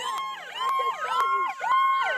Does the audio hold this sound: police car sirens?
yes